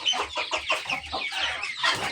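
Chickens clucking inside a duck and chicken house, a loud close run of rapid clucks in quick bursts, overlapping and continuing throughout without talk.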